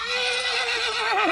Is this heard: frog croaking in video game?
no